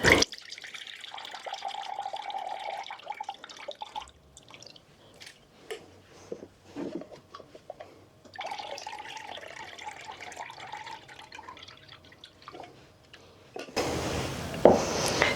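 Liquid from home-canned peaches drains and trickles into a container in a home kitchen, with soft pouring, drips and light clinks, ending in a brief louder splash of noise.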